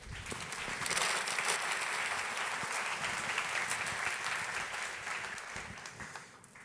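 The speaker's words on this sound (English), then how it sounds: "Give him a round of applause." A conference keynote audience applauds steadily for several seconds, a dense wash of clapping that swells early and then slowly tapers off.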